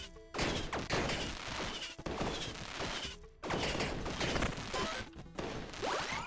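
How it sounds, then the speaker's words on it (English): Explosions in the video game Tiny Rogues, dense crashing bursts that keep overlapping into a loud, nearly continuous roar, broken by a couple of brief pauses. "I want to reduce the sound effect of explosion volume"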